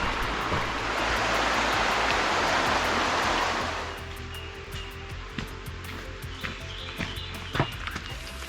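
Broadband rushing water, like a nearby stream or small waterfall among ferns and trees, roars steadily and close for about four seconds, then drops to a quieter background murmur with scattered small knocks and rustles.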